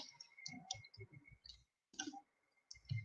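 Fast, irregular clicks of keys being typed on a computer keyboard while writing code, close and fairly quiet, with short pauses between bursts.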